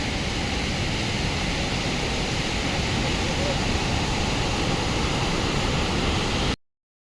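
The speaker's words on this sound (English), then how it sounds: "During the drought season, you will always find some waterfall." Victoria Falls in the drought season, heard from the Zambian side, as a loud, steady, broadband roar of falling water that stays constant and then cuts off abruptly near the end.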